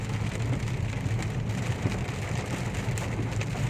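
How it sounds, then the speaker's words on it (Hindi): Rain from a storm falls steadily, a dense, even hiss of drops on surfaces with a low rumbling undertone, heard continuously without voices. "ये आंधी बारिश"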